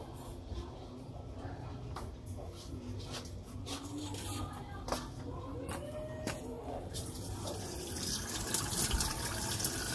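Water from a tap runs steadily into a Sharp Giga Wash washing machine being checked for a drain fault, a continuous gushing fill sound that grows slightly louder toward the end.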